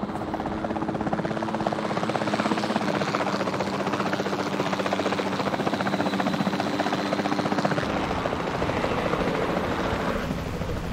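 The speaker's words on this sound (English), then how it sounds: "Then, the sensible thing is to take a capture team helicopter." A capture team helicopter in a dinosaur video game flies with a loud, steady rotor drone and thrum that holds constant before thinning slightly near the end.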